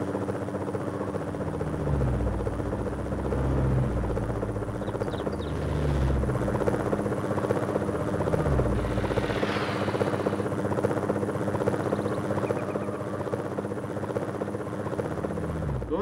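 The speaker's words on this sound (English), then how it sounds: "I don't know how to drive a helicopter worth crap, apparently." A helicopter in Need for Speed: High Stakes (PlayStation, 1999): steady rotor drone and engine whine fill the whole stretch, continuous and fairly loud, with a few low thumps and faint voices underneath.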